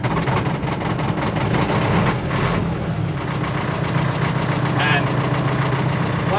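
A diesel grader engine turns over and settles into a loud, rough, low rumbling idle, close and continuous, with a voice talking over the noise.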